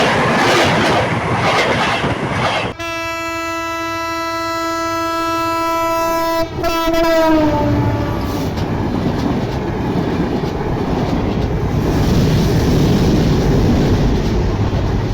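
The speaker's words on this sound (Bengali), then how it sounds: "ট্রেন চলে আসছে।" A train approaches along the line with a loud, sustained horn blast, then rumbles past close by with a rising roar of wheels and cars that stays steady to the end.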